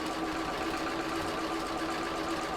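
A steady, continuous mechanical hum from a sewing machine stitching down fold lines on a door knob pocket, holding an even loudness throughout with no talk.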